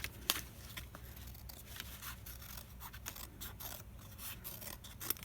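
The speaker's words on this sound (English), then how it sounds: "I'm going to cut around it about a 1/2 inch larger." Scissors cut a cardboard circle for a homemade rain stick, trimming about half an inch outside a traced line. Quiet, irregular snips and rasping scrapes continue steadily, close up and alone.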